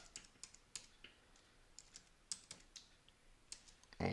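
Password being typed on a computer keyboard, heard as quiet, irregular key clicks spread across a few seconds, closing with a slightly louder tap that may be the enter key, with no talking.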